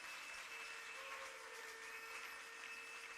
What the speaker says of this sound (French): allons acclamer très fort pour le Seigneur